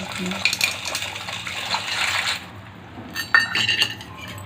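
Dry pasta tumbles into a pot of boiling water seasoned with salt and oil, giving a few light clinks and splashy watery sounds close by in a home kitchen.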